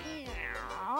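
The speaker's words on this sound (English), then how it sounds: "Meow." A cartoon cat meows once, a short drawn-out call rising and falling, fairly close and alone with no talk over it.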